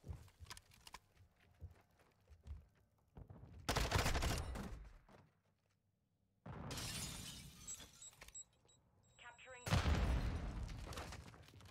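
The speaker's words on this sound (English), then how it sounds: "I just shot my teammate" Gunfire in the video game Call of Duty MW2 ranked play arrives in three loud, dense bursts separated by near-silent gaps, with a shattering crash at the end and some talk between.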